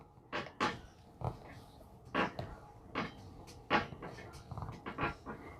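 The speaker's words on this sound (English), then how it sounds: "And my table is squeaky." A Sullivan craft table fitted with an ironing pad squeaks and creaks during ironing, giving a series of short, irregular squeals and knocks, near and moderately loud, with a quiet background between them.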